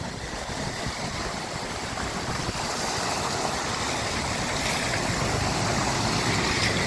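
Cars driving through a flooded road in heavy rain in Phagwara, Punjab, with a continuous loud wash of rain and splashing water, no voices.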